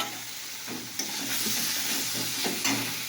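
Food frying in hot oil in a pan, a bright steady sizzle punctuated by a few scraping stirs of a spatula, close and fairly loud.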